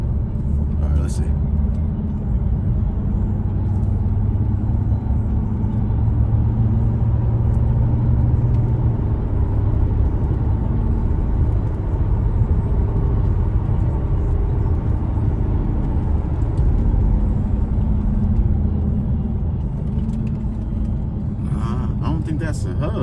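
Inside a moving car, a steady low hum from a worn wheel hub drones beneath road rumble throughout the drive, with talk heard over it.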